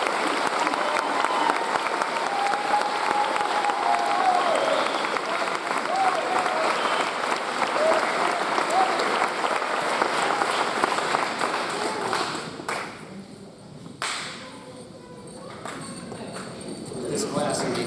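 Graduation audience applause for the 2021 valedictorians at a Hudson commencement ceremony, a sustained dense clapping from a large crowd that holds steady for about twelve seconds, then thins out and fades to scattered claps.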